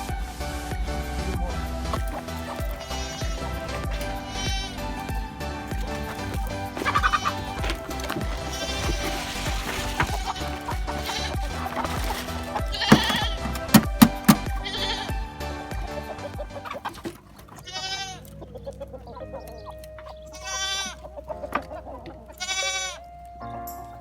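Goats bleat repeatedly, several animals calling over one another nearby in a noisy barn-like setting, the cries continuing throughout.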